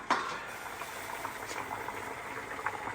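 Artichokes boil in a pot of water, giving a steady, soft bubbling and simmering hiss that runs without break, fairly faint, with no voices.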